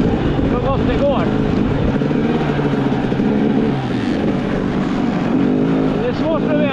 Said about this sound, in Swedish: Jag ligger på tvåan och puttrar lite här.